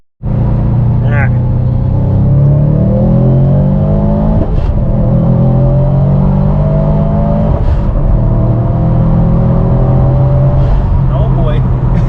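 A Subaru STI rally car accelerates hard during hot laps, engine rising and falling through repeated gear shifts, loud and close from onboard, with people talking over it.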